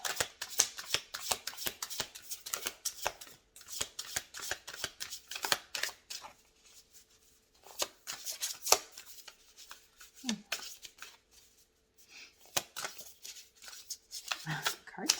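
Tarot cards shuffled by hand in quick riffling bursts, close and crisp, pausing now and then before starting again.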